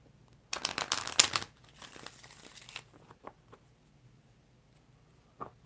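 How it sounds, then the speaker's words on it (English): A deck of tarot cards is riffled in a brisk burst of crisp, papery flutters, followed by scattered soft taps and clicks as the cards settle, close and alone. "I'm going to do 4 shuffles."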